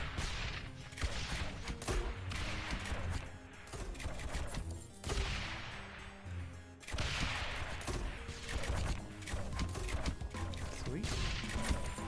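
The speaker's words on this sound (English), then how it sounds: "get as many mortars as we can shooting out" Mortar towers firing in the tower-defence game Rogue Tower, a rapid, repeated barrage of booming shots and crashing impacts that rolls on continuously with a brief break partway through.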